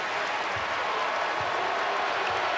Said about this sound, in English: You can hear the way this crowd reacted to that